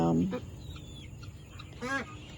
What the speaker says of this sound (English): But the chickens come out, the young chicks.